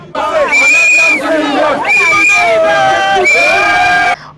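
A crowd of supporters cheers and sings for Simone Gbagbo as she arrives. The loud, dense mass of voices swells with sustained, chant-like tones and excited shouts throughout.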